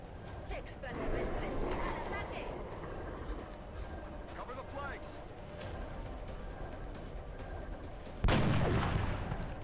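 Video game gunfire and battlefield explosions rumble under continuous talking, with scattered sharp shot transients and a louder burst near the end, all at moderate level behind the voices.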